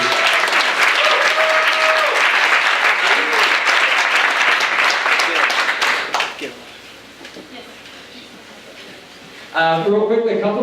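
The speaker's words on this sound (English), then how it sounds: "So we could get a round of applause to those who make it happen." Loud audience applause fills a panel event hall for about six seconds, then fades to scattered claps and murmuring before a voice starts speaking near the end.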